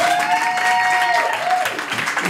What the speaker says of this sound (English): Let's applaud for them right now.